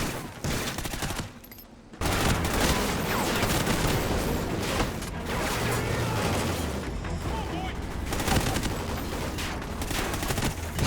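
Rapid bursts of gunfire in Call of Duty: Ghosts crackle continuously, dense and loud, with a brief lull early on before the shooting resumes.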